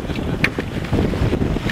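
Wind blowing hard across a sailing boat at sea off Whitby, a rough gusty rush buffeting the microphone with a few brief knocks, close and fairly loud, with no talking.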